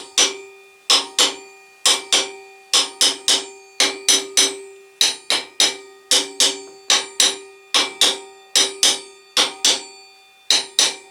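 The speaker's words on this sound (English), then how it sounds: "we're hammering it on" A sprocket is hammered onto a shaft during a TBR7 sprocket upgrade: about twenty sharp metallic blows in quick pairs and runs, each ringing briefly, loud and close, with no talk.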